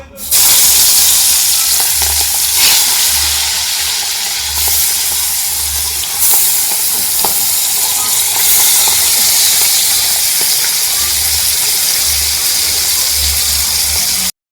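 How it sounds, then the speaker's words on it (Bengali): Fish frying in hot oil, a steady loud sizzle and crackle running throughout with occasional stirring clinks and pops, close up and with no talk. "তো এদিকে তেল গরম হয়ে গেছে, মাছগুলো দেখি ভেজে নিই।"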